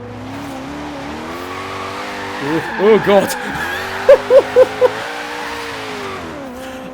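A mid-engine Koenigsegg Regera in Forza Horizon 3 holds a steady engine drone while its tyres squeal in a wavering burst, then several short sharp chirps follow, with someone speaking briefly over it.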